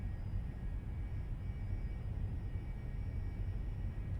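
Steady low engine roar of a Cessna Citation II (S550) jet on its takeoff run in a flight simulator game, a constant rumbling drone with a faint high whine, no voices.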